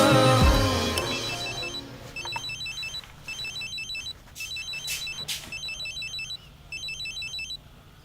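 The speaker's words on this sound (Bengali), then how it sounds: "এতবার ফোন দিলাম, ফোন ধরলি না কেন?" A mobile phone rings in repeated short electronic chirping bursts at a steady rhythm, fairly close, after a louder musical passage fades out at the start.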